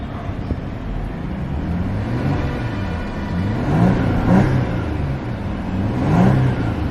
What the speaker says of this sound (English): We'll give her a quick rev.